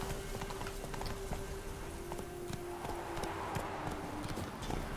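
Roach the horse's hooves in Witcher 3, a steady clip-clop trotting rhythm over a constant droning background, moderately close and continuous throughout.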